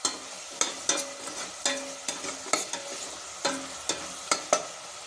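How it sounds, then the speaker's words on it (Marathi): Amla pickle being stirred in a pan over a low flame, a spoon scraping and knocking against the metal about a dozen times in an uneven rhythm while a soft sizzle runs underneath. "थोडं 2 मिनिटं आणखी आपण लो फ्लेमवर कंटिन्यू फिरवत राहायचं आहे"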